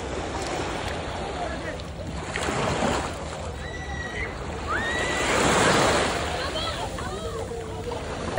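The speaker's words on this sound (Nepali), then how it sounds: "समुद्रमा आइयो समुद्रमा चाहिँ यस्तो सिन छ" Sea waves wash onto a beach where people are swimming, a steady broadband surf rolling and swelling through the whole stretch, with faint distant voices and scattered chirps over it.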